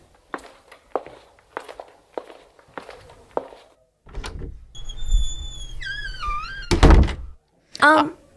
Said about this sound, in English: they heard footsteps and doors opening